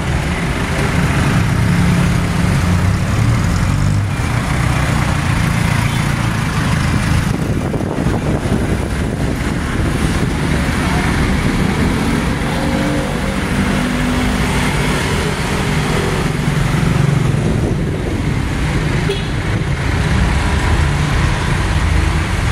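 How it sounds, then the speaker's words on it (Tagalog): A Philippine jeepney engine runs with a heavy, Scania-like diesel rumble that holds steady throughout. Road traffic noise sits around it. "parang Scania yung tunog"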